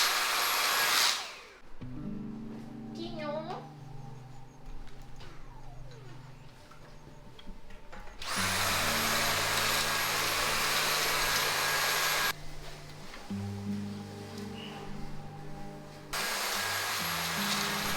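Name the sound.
vacuum cleaner cleaning bedroom floor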